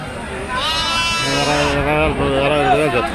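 Sheep bleat loudly and close by at a weekly livestock market in Ongole, several overlapping wavering calls in quick succession amid a busy outdoor crowd.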